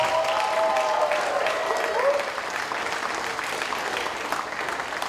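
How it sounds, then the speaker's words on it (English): Guests clap for the newlyweds at a wedding reception, a broad, steady wash of applause from a crowd that continues for several seconds without dying down. "let's give the big round of applause to the newlyweds, Neha and Pavan."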